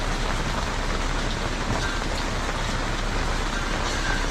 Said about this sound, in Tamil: மழை பெஞ்சிருக்குது இப்போது.